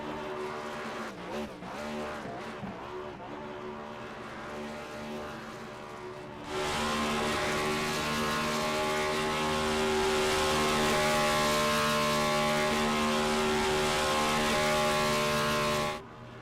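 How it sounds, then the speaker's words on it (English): A Next Gen Cup race car at Dover does a celebratory burnout after the race win, its engine revving hard with a sustained roar and tire squeal that builds midway and holds loud before cutting off, with no voices over it. "We'll be doing burnouts once again"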